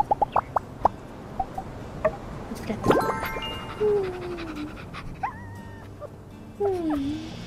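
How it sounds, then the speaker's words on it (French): A small dog in the video game My Time at Sandrock whimpers and yips, with a string of short high whines and a few longer rising and falling cries over a low background bed. "C'est un beau petit chien."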